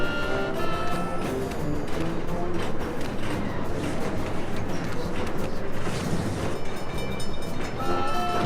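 Steady rumbling rattle of a moving train in the Sam & Max video game, a continuous loud bed with faint tonal squeals, running alone without voices.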